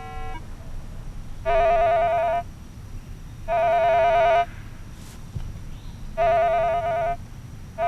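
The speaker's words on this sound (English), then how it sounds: "these will overload or send an overload signal to the machine" Three bursts of a buzzy, warbling electronic overload tone from a Minelab Explorer metal detector, each about a second long and evenly spaced, over a low background hiss.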